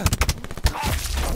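Automatic weapon fire in Call of Duty 4 team deathmatch: a rapid burst of close, loud shots in quick succession, then a dense wash of louder game noise, with no talk over it.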